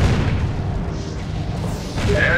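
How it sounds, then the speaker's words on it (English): Cannon fire in the tower defense game Defense Grid: a loud, heavy boom with a rumbling, noisy tail that swells again near the end. "Setting on cannon fire!"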